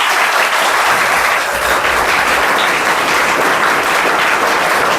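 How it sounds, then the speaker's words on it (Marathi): Students at a school singing competition applaud a young performer's song with loud, vigorous clapping from a large crowd that stays dense and constant throughout. "त्यासाठी परत एकदा जोराने टाळ्या होऊ द्या."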